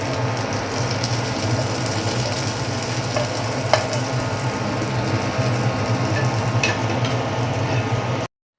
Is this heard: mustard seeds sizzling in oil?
yes